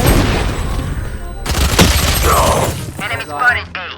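Gunfire in the video game Valorant: a loud burst of rapid shots followed by sharp cracks and booms, with game effects and a person talking over the action.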